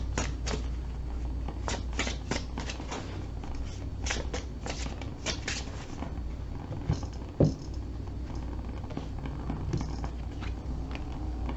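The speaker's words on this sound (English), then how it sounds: "give this another quick shuffle" Oracle cards are shuffled continuously with soft riffling patters and papery slaps, close and steady, a single sharp tap in the middle, no talk.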